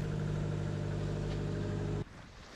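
A sailboat's engine running while becalmed offshore, a steady, close droning hum that cuts off abruptly near the end, leaving a quieter background, with no talking.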